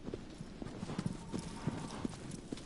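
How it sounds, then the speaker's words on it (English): Horse hooves clip-clop in a quick, uneven galloping rhythm through rocky valleys in Shadow of the Colossus, faint and slightly distant, with a few scattered louder hoofbeats. "See what I mean about this horse? It's so hard to control."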